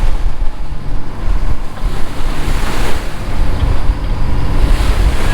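Big ocean swells wash and slosh around a deep-sea fishing boat off Panama City Beach, Florida, a loud continuous roar of water with heavy wind buffeting the microphone throughout.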